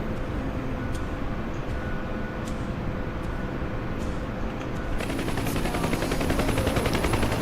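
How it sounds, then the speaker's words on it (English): A minigun and an M60 machine gun firing in a video game, a continuous dense rattle of rapid fire under a steady droning hum, turning harsher and louder partway through. "Minigun and M60."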